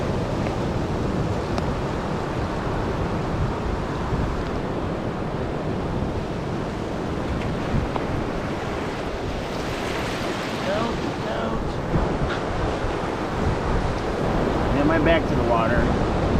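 Ocean waves breaking at night on Navarre Beach, a steady close surf wash with wind buffeting the microphone throughout and a few brief faint sounds near the end.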